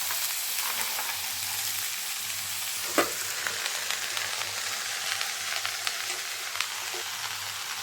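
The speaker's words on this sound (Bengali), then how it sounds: "এখন আমি এর মধ্যে পালং শাক আর বড়িগুলোকে ছেড়ে দিব।" Spinach and lentil dumplings (bori) frying with winter vegetables in a pan, a steady close sizzle throughout with a brief clatter near the middle and faint stirring knocks, no talking.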